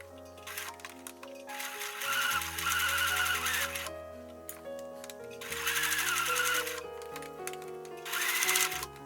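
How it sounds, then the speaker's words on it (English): A sewing machine stitches channeling onto the lining side of a dress cup in three bursts of fast, even whirring. Short pauses and faint handling noises fall between the runs. "Pin the channeling on the lining side of the cup and sew about 1 millimeter."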